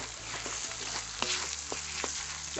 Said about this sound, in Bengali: চামচটা আদা রসুন বাটাটা দিয়ে সুন্দর করে কষিয়ে নেবো পেঁয়াজের সাথে